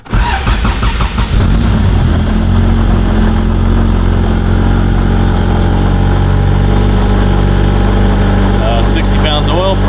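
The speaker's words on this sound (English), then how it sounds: "It's cold right now, so we've got a high air idle" Cold Honda VTEC engine in a small car running at a steady high idle, a loud continuous close drone after startup with voices talking over it.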